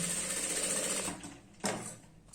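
Sewing machine stitching a girl's skirt, a steady close whirring run for about a second that then stops, followed by a short mechanical clack.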